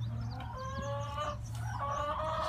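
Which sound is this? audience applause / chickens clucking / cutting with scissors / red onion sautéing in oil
chickens clucking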